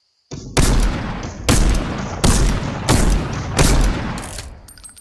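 Pistol fire in the Fortnite video game: five loud, sharp reports spaced about a second apart, each with a short ringing decay, close and alone without talk.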